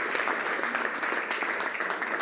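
A church congregation applauds, a dense continuous clapping at steady loudness with no break.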